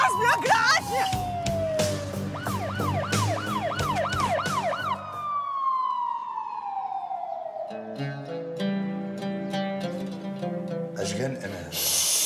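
A police siren wails loudly and close by, switching between rising-and-falling yelps and long descending tones across the whole stretch, with people talking over it.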